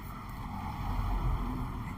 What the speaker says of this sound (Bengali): দূরে একটা বোট আসছে দেখুন।